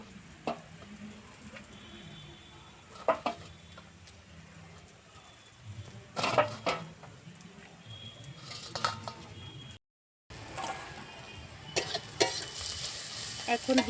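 Mashed cabbage with salt being stirred in a frying pan, a quiet sizzle under intermittent scraping strokes of the spoon, with a brief dropout near the end.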